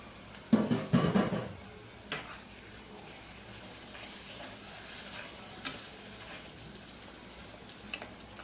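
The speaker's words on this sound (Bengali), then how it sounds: "এখন দিয়ে দেব চিংড়ি মাছ।" Shrimp dropped into a hot pan with oil and turmeric, frying for a bottle-gourd curry: a loud burst of sizzling and stirring at the start, then a steady, softer continuous sizzle with occasional spatula scrapes, no voices.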